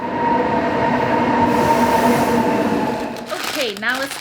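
Munich train station ambience: a steady rumble of rail traffic and a low hum fill the concourse, with a brief squeal of train wheels rising near the end.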